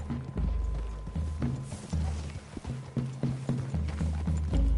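Horses' hooves in the video game Red Dead Redemption 2, a steady run of close clip-clop footfalls with faint creaking tack and no voices.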